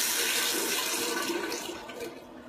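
Running water pours steadily from a tap for rinsing after mouth cleaning, a close, continuous hiss that eases slightly toward the end.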